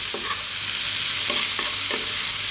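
Mushrooms fry in a pan over above-medium heat with a loud, dense hiss of sizzling oil, while a utensil knocks against the pan several times as the pieces are stirred, close up with no voices.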